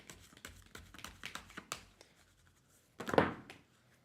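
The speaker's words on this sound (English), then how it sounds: "I'm going to shuffle one more." Tarot cards being shuffled by hand, quiet soft taps and riffling flicks in an irregular patter, ending in a brief louder rustling burst, with no talking.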